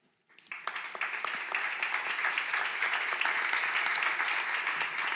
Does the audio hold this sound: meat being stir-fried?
no